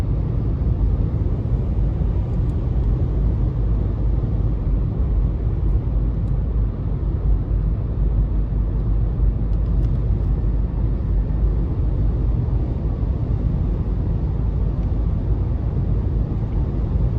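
A 2015 Nissan Leaf SV electric car accelerates in eco mode, heard from inside as a steady, loud low rumble of road and tire noise that holds even throughout, with no voices.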